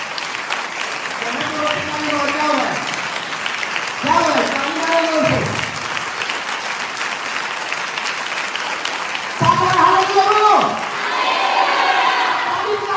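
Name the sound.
congregation clapping loudly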